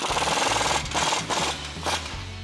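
An impact wrench with a 19mm socket tightens a lower control arm bolt on a Toyota Tacoma, close and loud, firing in several rapid hammering bursts separated by short pauses.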